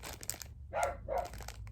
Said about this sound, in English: my dog is barking at somebody